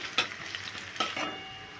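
Potatoes sizzle frying in oil in a kadai, with a couple of sharp utensil clinks and scraping as they are stirred.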